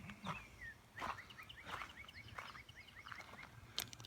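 Birds chirp in North Carolina woods near a birdhouse, with a steady stream of quick, repeated high chirps and trills at moderate distance, fairly soft against quiet outdoor air and no talking.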